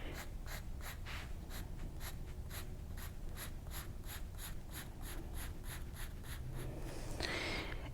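Pen or pencil hatching lines on paper in quick, even scratchy strokes, about two per second, close and quiet, with a brief breathy rustle at the end.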